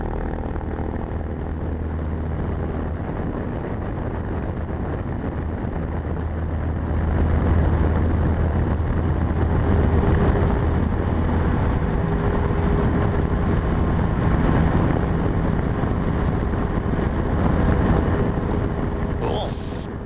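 A small airplane takes off with a steady, loud engine drone mixed with rushing wind, the roar swelling partway through and staying strong to the end.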